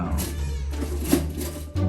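A cat meows in a few drawn-out, wavering calls, close and fairly loud, with a short lower cry at the end.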